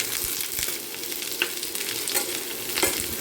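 Vegetables fry with onion in a hot pan, a bright continuous sizzle punctuated by occasional scraping stirs and crackles, close and fairly loud.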